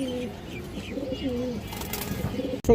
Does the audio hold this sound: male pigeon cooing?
yes